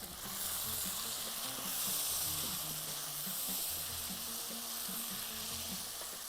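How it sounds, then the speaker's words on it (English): Tomatoes hit a pan of deeply fried, golden-to-black onions and sizzle with a steady, close hiss and crackle, stirred now and then, while cooking a Bahraini Matfi Safi dish. "Now put the tomatoes there."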